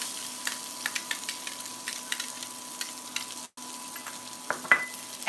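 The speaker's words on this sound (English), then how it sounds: "what I want to do now is take our onion and just soften it." Chopped onion softening in a couple of tablespoons of oil in a pan while cooking a keto cheddar rice and broccoli dish, giving faint, scattered crackles and sizzle pops over a steady low background hum.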